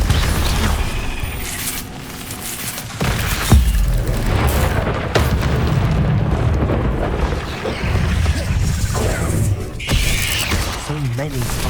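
Confringo blasting-spell explosions in the video game Hogwarts Legacy form loud, dense booms and crackling bursts over game effects and music, with a voice speaking through the mix.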